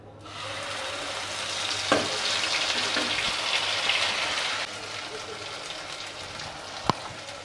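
Green pea paste hits hot oil with black cumin in a wok, giving a dense, steady sizzle with occasional stirring clinks, then settling to a slightly quieter hiss.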